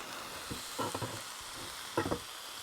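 Carolina Reaper chilli sauce sizzles in a pan over a camp stove, a steady faint frying hiss broken by a few soft stirring scrapes, with no voices.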